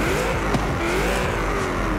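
A car engine in the racing video game Forza Horizon 5 roars loudly and continuously, its pitch sweeping up and down as it revs through gears, close and with no voices present.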